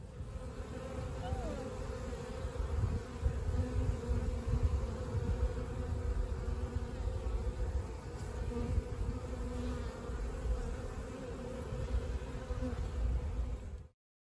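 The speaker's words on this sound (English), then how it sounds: "hopefully can hear them still maybe buzzing behind me" A honey bee swarm gathering into a box: a dense, steady buzzing drone from many bees, continuous and close, holding level for several seconds before cutting off abruptly.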